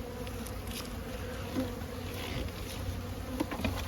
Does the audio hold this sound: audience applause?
no